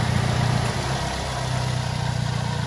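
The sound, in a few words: petrol car engine idling smoothly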